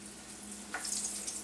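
A soft hiss of meat sizzling in hot oil in an electric skillet rises suddenly over a low steady hum.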